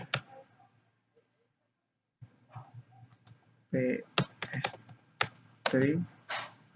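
Commands being typed on a computer keyboard at a Linux terminal, heard as sparse, close key clicks that are quiet at first and then turn into quick bursts of taps.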